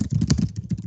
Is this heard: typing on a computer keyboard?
yes